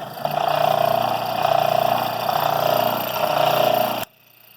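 A Rikon bench grinder runs close and loud with a steady motor hum and a pulsing vibration wobble, cutting off abruptly near the end.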